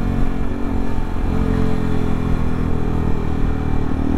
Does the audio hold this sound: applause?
no